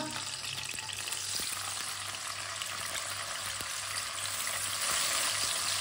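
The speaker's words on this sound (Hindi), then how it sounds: "थोड़ा सा रोस्ट कर लेंगे। दोनों चीजों को भून लेंगे।" Brinjal and peas roast in a pan with a steady, close frying hiss and light stirring, no talk over it.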